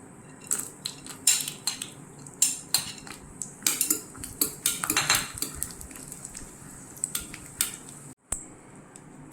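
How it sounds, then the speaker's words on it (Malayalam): Peanuts roasting in ghee while being stirred in a pan, with repeated sharp metallic scrapes and clinks of a spoon against the pan, close and uneven in rhythm, with no talking. "കുറച്ച് നെയ്യിൽ"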